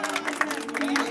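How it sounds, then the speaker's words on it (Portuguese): Birthday party guests clapping and cheering for a friend, a dense crowd of hands and voices close by, steady and lively throughout the brief moment. "Pode bater palmas aí, pessoal."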